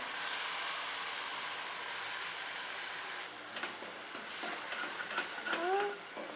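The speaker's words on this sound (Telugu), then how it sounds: "ఇప్పుడు మనం ముందుగా చేసుకున్నటువంటి మసాలా పేస్ట్ని ఇందులో వేసేద్దాం" Masala paste sizzles in a pan of fried onions for a paneer curry, a steady broadband hiss with a few scraping stirs and clinks near the end.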